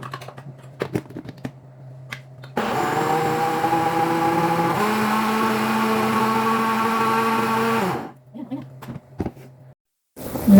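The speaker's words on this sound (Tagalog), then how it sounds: "So, i-blender na natin yung ating beans." An electric blender purees cooked beans for a noodle soup, its motor whirring loudly and steadily for about five seconds, shifting pitch once midway before stopping abruptly, with quieter kitchen clatter before and after.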